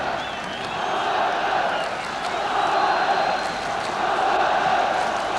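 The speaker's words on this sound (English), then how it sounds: "Crowd getting behind Tottenham really now." A football stadium crowd roars in support of Tottenham during a match against Everton, a steady, rolling wall of massed voices and chanting that rises and falls slightly without a break.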